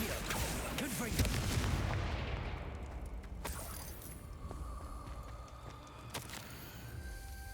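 Confringo spell explosions in the Hogwarts Legacy video game, a dense run of blasts and booming impacts that is loudest early and then trails into scattered cracks and crashes, with game voices mixed in.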